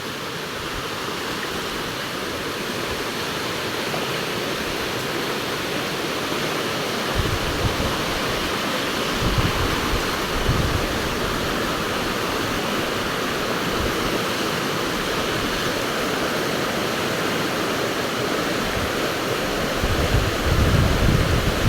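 A swollen creek at Kiday flowing strongly: a loud, steady broadband rush of water that carries on unbroken for the whole stretch, with no voices.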